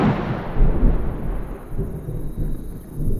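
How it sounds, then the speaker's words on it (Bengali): Thunder rumbles deep and heavy through a night sky as a sound effect in an audio drama, rolling continuously with swells and dips and no voices. "আকাশে মেঘের গর্জন শুনে প্রমাদ গুনলাম"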